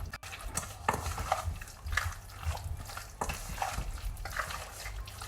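Chicken being mixed by hand with curry powder and green seasoning for roti, soft wet squelching and stirring strokes in an uneven rhythm, close and fairly quiet, with no speech.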